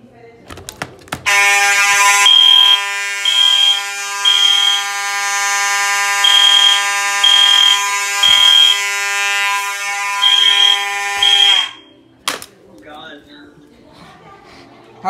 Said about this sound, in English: we're going to set off the fire alarm system, so here we go